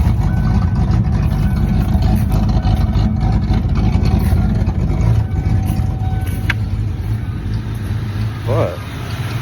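A Fox Body Ford Mustang's 5.0 V8 engine idles roughly with a loud, steady low rumble up close, running continuously without revving.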